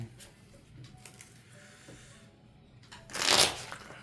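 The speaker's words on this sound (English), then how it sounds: "Shuffle these back in." Trading cards from a tabletop card game are shuffled back into a deck, with soft rustling handling through most of the span and a louder riffle near the end, close by.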